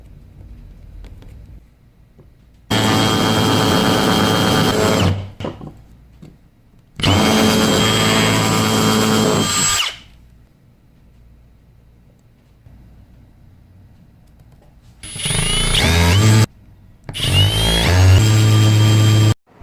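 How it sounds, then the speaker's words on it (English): Power drill boring holes through a bracket for a VIP tray in a Mercedes W140 S500, heard as four loud sustained bursts of whirring with quiet pauses between them, the last two bursts shorter with a higher whine. "drill out these holes, and see what we can do about fitting it onto the car"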